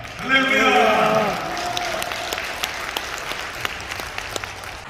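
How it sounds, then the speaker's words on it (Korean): Church congregation at a New Year prayer revival service applauds to welcome the pastor, a loud burst of clapping that rises quickly and then thins into scattered claps, with a voice speaking over the start. "손뼉 치면서 박수로 환영하겠습니다"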